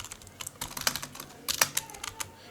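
Python code being typed on a computer keyboard: a quick, irregular run of close key clicks with a few sharper taps, heard alone without speech.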